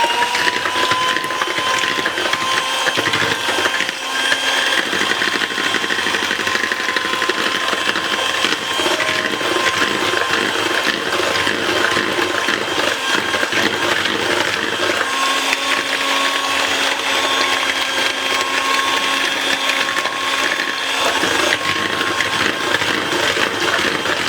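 A Philips HR3700/30 electric hand mixer whirs continuously at a loud, steady pitch with a rattling mechanical texture, running alone without pause.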